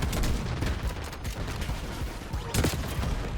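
Rapid gunfire in the Black Ops 6 video game during a hardpoint match, dense bursts of shots and booms packed close together, with game audio and a voice faintly mixed in.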